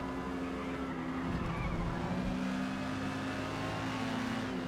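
A race car in the Forza Motorsport video game at Lime Rock, B class Exocet, drones with a steady, loud engine note that surges slightly, continuous and close throughout.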